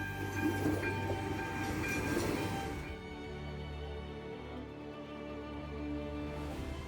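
A train on Prague's public transport network rolls along the rails with a steady low rumble and metallic clatter that eases off midway, leaving a quieter continuous hum.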